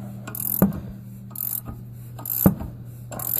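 A ratcheting wrench tightens the nut on a Bilstein shock absorber during installation, giving short bursts of rapid metallic clicks repeated every second or so, close up, with quiet gaps between.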